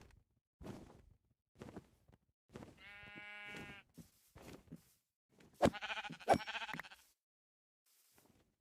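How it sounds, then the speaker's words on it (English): Sheep in Minecraft bleat several times in short, wavering calls, one clear bleat early and a louder pair of overlapping cries later, with soft footstep-like taps scattered between them. "Oh, there's some sheeps."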